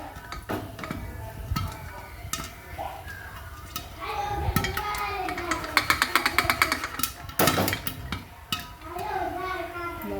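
Popcorn popping inside a covered pressure cooker with its lid on while the cooker is shaken now and then, giving irregular sharp pops and clatter that grow denser toward the middle, with metallic rattling throughout.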